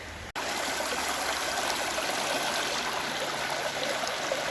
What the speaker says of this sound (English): Gonna run it through the sluice